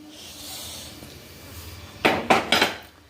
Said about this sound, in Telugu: ఇప్పుడైతే పులిహోర తాలింపు పెట్టేయడమే.